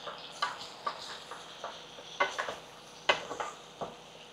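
A spoon stirs chili powder and salt into an eggplant, potato and tomato curry in a pan, making scattered scraping clinks and light taps over a soft background sizzle, with no one talking.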